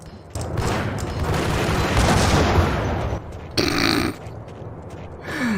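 A grenade blast in the game Max Payne, a loud broadband boom that swells and rumbles for about three seconds, followed by a brief sharper burst and quieter debris noise.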